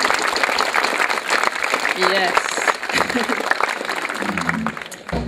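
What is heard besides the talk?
audience applause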